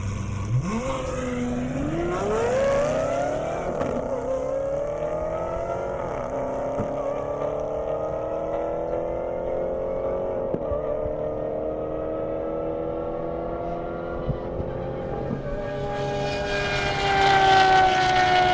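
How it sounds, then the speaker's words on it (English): A Lamborghini Aventador V12 engine screams and climbs through gears at an airstrip event, pitch rising and dropping with each shift, loud and continuous with a sharp surge near the end. "That Aventador sounds amazing."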